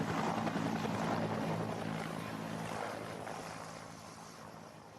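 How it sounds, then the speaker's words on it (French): A helicopter comes in to land at a landing zone, a sound effect in a French audio drama: steady dense rotor roar, loud at first and gradually fading over several seconds, no voices. "Vous déposez l'hélico dans une zone d'atterrissage."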